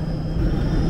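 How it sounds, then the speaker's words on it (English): A low, steady rumble of a Jakarta metro train arriving at a station, with a faint high whine above it, constant and fairly close. "The train is here."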